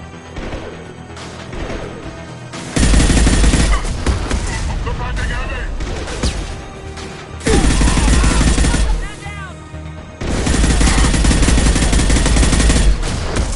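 Heavy gunfire in Mass Effect 2 erupts in several loud, sustained automatic bursts separated by quieter stretches of battle noise and game sound.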